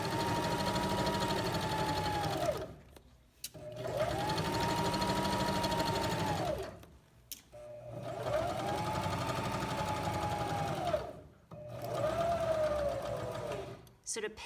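Sewing machine stitching a seam on a small tote bag, four bursts of fast humming stitching separated by short pauses, close and steady.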